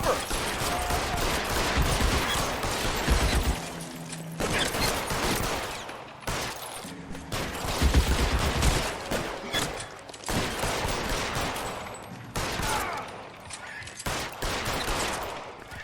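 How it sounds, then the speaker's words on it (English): Gunshots crackle through a firefight in the crime game LA Noire, with repeated volleys of shots at moderate loudness and some sharp bangs, continuing steadily throughout. "Where are those shots coming from?"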